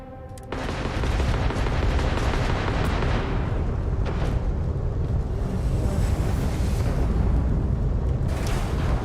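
A spaceship exploding in Starfield: a sudden loud blast that rolls into a long, dense roaring rumble, like continuous fire and debris, staying loud throughout.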